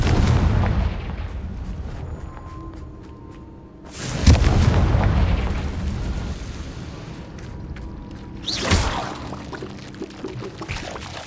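Two booming fire-spell blasts, Confringo in Hogwarts Legacy, hit several seconds apart, each a loud, sharp burst trailing into a rumbling crackle over a low ambient bed.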